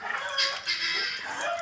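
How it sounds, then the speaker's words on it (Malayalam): Chickens and guinea fowl raise a continuous chorus of agitated alarm cackles at a monkey, overlapping squawks nearby with no break. "കോഴിയും ഗിനിയും എല്ലാവരും കൂടെ കുരങ്ങനെ ചീത്ത വിളിക്കുന്നതാണ് ഈ കേൾക്കുന്നത്"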